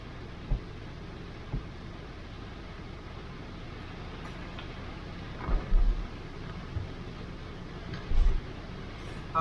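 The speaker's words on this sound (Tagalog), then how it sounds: "Ang lakas ng ulan." Heavy rain pours steadily during a typhoon in Japan, with a few low rumbles of thunder rising out of the constant wash; no one talks.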